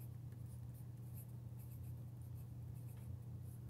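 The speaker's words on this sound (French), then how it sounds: "Et je vais écrire ici" Hand writing on paper during a math lesson, soft faint scratching strokes over a low steady room hum, with no talking.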